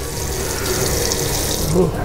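Warm water runs from a tap in a steady, close splashing stream into a sink, continuous and even throughout with no talking.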